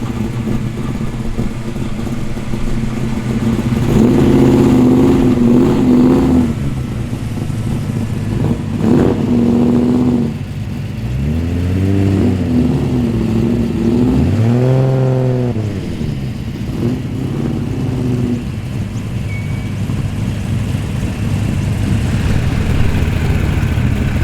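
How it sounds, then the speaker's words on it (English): V8-powered cars arrive at an outdoor car show in Earlwood, Sydney, their engines burbling and revving as they roll past one after another, loud rising and falling rumbles that swell near and fade away. "The burble of the V8s sounding incredible."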